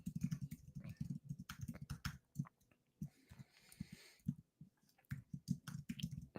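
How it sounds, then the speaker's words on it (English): Rapid clattering keystrokes on a computer keyboard come in quick irregular bursts with brief pauses, close and crisp during a livestream commentary. "pardon me as I am typing some tweets as we're doing this."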